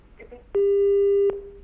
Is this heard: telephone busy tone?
yes